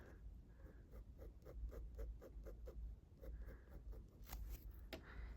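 Gel pen crosshatching on gray paper: a close, steady run of quick scratchy strokes in an even rhythm, pausing briefly now and then before resuming, with no talking.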